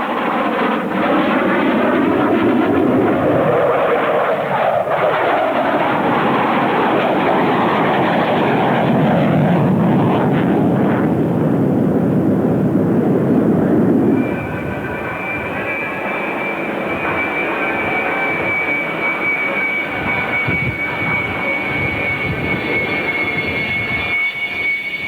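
General Dynamics F-111 jet passing at the 1997 Australian International Airshow, a loud sustained roar that swells and shifts in pitch, then settles into a steadier rumble with a thin high whine as it moves away.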